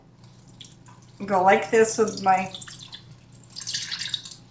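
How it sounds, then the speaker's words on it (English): Water trickles and drips as fresh basil is rinsed by hand, mostly under a nearby voice, with a soft splashing patter that comes through more clearly near the end. "So then I'm going to just kind of rinse this."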